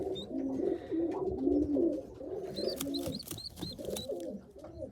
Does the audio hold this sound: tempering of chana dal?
no